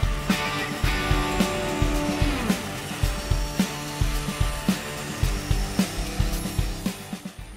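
A band saw cuts through wood with a steady whirring drone and repeated sharp ticks and knocks as the piece feeds into the blade, close and fairly loud with no talking.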